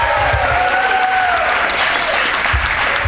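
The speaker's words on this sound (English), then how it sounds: "give yourself a nice round of applause for coming out to Monica and Chris's wedding reception" Guests at a wedding reception at The Barn at Gibbet Hill near Boston break into steady, full applause from a sizable crowd, with a few whoops rising over the clapping throughout.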